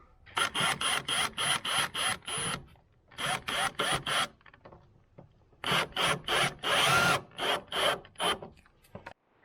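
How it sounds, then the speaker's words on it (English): A power drill whirs in short repeated bursts, on and off in quick rhythmic pulses with brief pauses between groups, close by, while a body kit is fitted to a Toyota Corolla. "I can get a better angle with my drill."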